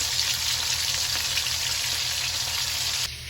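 Tuna sticks fry in hot oil with a steady, close crackling sizzle that holds evenly throughout, easing slightly near the end.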